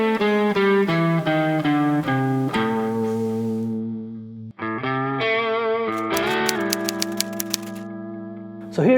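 Electric guitar lick descending down the fretboard from a high position, clear picked notes ringing with sustain, played alone with an effects-coloured tone and a brief pause midway before more notes and a final slide.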